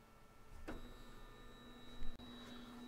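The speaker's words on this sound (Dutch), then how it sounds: "De printer gaat nu helemaal naar achter. Hij gaat omhoog." A 3D printer moves its build platform back and up, giving a faint steady motor whine and hum with a brief clunk partway through, heard close in a quiet room.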